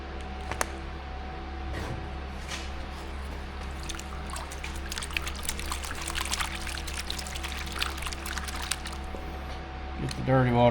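Dirty water pours steadily out of a gold pan while processing dirt from a Colorado gold adit, a continuous splashing trickle over a low, constant hum, growing a little louder near the end.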